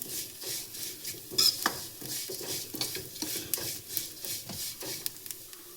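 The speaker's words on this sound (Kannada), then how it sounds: "ಸೊ ನೋಡಿ, ಶಾವಿಗೆ ಎಲ್ಲ ಕಲರ್ ಚೇಂಜ್ ಆಗಿ ಗರ್ಗರಿ ಆಗ್ತಾಯಿದೆ ಶಾವಿಗೆ." Shavige vermicelli is dry-roasted and stirred in a pan until it changes colour, giving quick, close, rhythmic scraping and rustling strokes with a faint crackle beneath.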